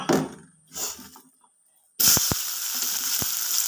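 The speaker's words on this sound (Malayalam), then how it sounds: "ആ എണ്ണ ഈ പാത്രത്തിലേക്ക് ഒഴിച്ചു അതിലേക്ക് ഞാൻ അരിഞ്ഞ സവാള അരിഞ്ഞ് തക്കാളിപ്പഴവും കൂടെ അരിഞ്ഞ് വെച്ചിട്ടുണ്ടായിരുന്നു ഇത് ഇട്ട് വഴറ്റണം" Chopped onion and tomato hit hot oil in a pot for chicken curry, bursting into a loud, steady sizzle halfway through after quieter moments with a voice, with a few sharp clinks of a spoon against the pan.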